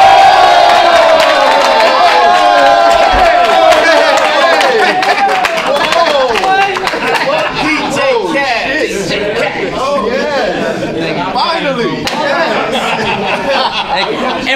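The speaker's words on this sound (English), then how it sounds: "we got to clap for this dude that walks in" A live audience at a radio station claps and cheers loudly for a rapper who has just walked in, with shouts and chatter mixed into the steady applause.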